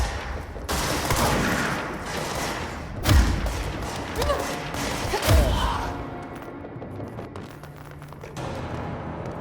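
Rapid gunfire and heavy thuds from combat in the video game Control, with two loud booming impacts standing out over dense, continuous shooting and a brief voice in the mix.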